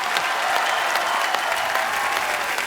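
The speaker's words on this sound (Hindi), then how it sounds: "एक बार यूवी बाजी के लिए जोरदार तालियां हो जाए" Studio audience at a comedy talk show breaks into loud, sustained applause, a dense wash of clapping hands that holds steady for a few seconds without any talk.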